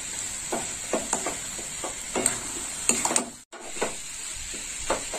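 A coconut and cashew paste mixture is stirred in a pan, with a steady hiss of cooking under repeated soft scraping strokes and light clinks of the spoon, close and uneven in rhythm.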